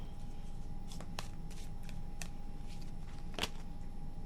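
Playing cards shuffled by hand during a tarot reading, a soft, close steady riffle under a constant low hum, with a few sharp clicks and taps scattered through it.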